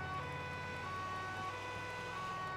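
Ambulance siren in the video game GTA 4, a steady wailing tone holding throughout at moderate level over a low rumble of road and engine noise, with no one speaking.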